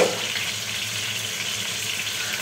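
Cut cauliflower fries in oil with an even, close, steady hiss that holds at a constant level without pops or pauses.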